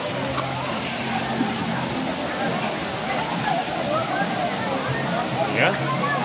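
Kalayaan Twin Falls pours in a steady, rushing roar of falling water, continuous and fairly close, with people's voices faintly mixed into the constant wash.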